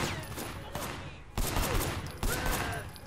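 Rapid gunfire in the action game Sleeping Dogs, dense overlapping bursts of shots with heavier cracks near the middle and end, loud and close, with a voice talking over it.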